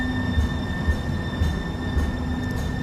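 Light rail train on the 2 line to downtown Redmond arriving at a station, a steady loud rumble of wheels on track with faint squeals and a rhythmic clack repeating about every half second.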